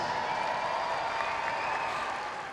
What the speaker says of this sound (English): Eric Neiley, everybody, give him a huge round of applause